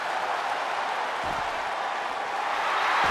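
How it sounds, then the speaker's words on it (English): Video game arena crowd at a WWE 2K23 TLC title match roars in a steady, dense wall of cheering and applause that holds loud throughout and swells slightly toward the end. "The sound of this crowd is deafening, and he's asking for more."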